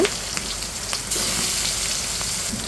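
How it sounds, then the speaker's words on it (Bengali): Pieces of katla fish fry in hot oil, giving a loud, continuous crackling sizzle that swells briefly as more pieces go into the pan. "এখন আমি এক একটা মাছ দিয়ে দেব। খুব সুন্দর করে মাছগুলো ভেজে নেব।"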